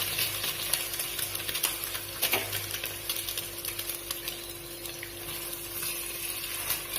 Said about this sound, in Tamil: இப்போது ஸ்டவ்வில் பாத்திரம் வச்சுட்டு கொஞ்சம் எண்ணெய் ஊற்றிக்கோங்க. இதில் முட்டையை உடைச்சி ஊற்றிக்கோங்க.